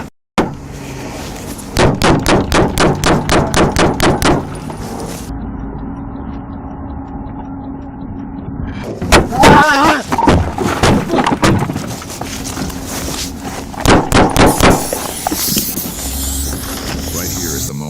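Rapid bursts of gunfire, sharp repeated shots in quick volleys, with several separate rounds of shooting and shouting in between.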